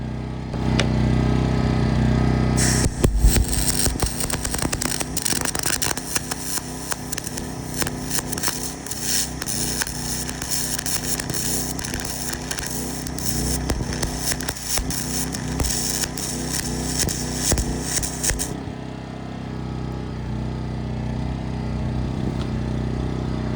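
First-time stick arc welding with a welder powered by a generator: a continuous loud crackling, sputtering arc runs for about sixteen seconds over the steady drone of the generator, which keeps running before and after.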